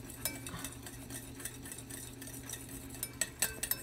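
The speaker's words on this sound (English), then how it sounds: "Let's just keep mix it until it's all done." Vanilla is stirred into a homemade ice cream mixture, a steady scraping swish of a utensil in a pot with a few sharper clinks toward the end, close by.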